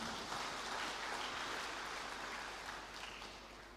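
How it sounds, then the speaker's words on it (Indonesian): Applause at a university graduation ceremony, a faint, distant wash of clapping that fades slightly toward the end, soft and hiss-like. "Tepuk tangan untuk anak-anak muda kita."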